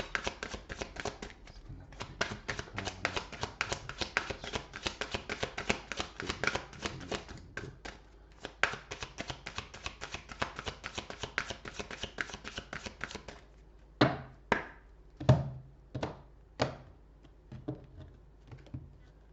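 Tarot cards are shuffled in quick, dense riffling bursts, then a few distinct, separate taps and slaps follow as cards are drawn and laid down, all close and fairly quiet.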